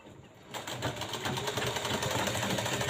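Sewing machine stitching a backstitch on a blouse sleeve, a steady rapid mechanical whirr starting after a brief quiet moment and running continuously, close and fairly loud.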